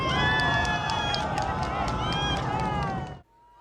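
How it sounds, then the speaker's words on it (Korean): A crowd of citizens at a rocket launch observatory applauds and cheers as the Nuri rocket climbs. The clapping and whooping are loud and continuous for about three seconds, then cut off suddenly. "웅비하는 누리호를 보며 전망대에선 더 큰 박수와 환호가 터져나옵니다."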